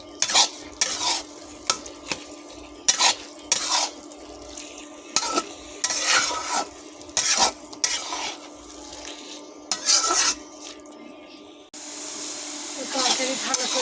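A spoon scrapes and stirs a thick pumpkin curry with hilsa fish heads in a wok, in repeated short strokes with brief pauses, over a steady low simmer.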